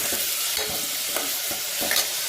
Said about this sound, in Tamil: அதுக்கப்புறம் இதோட பூண்டு, தக்காளி இது எல்லாத்தையும் ஒன்றா போட்டு ஒரு வதக்கு வதக்கிங்க.